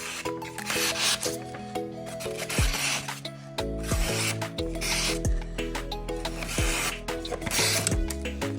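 A freshly sharpened Chinese kitchen knife slices through paper in several close, raspy strokes, each a short scraping rub with a dry papery edge.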